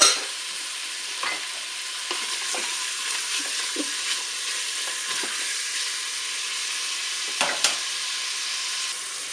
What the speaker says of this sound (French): Le beurre est fondu, je vais faire revenir ma viande.